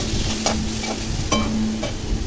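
A spiced mixture of potatoes, salt and turmeric frying in a pan, with a loud, close sizzle and a few sharp scraping stirs and clanks against the pan, with no voices.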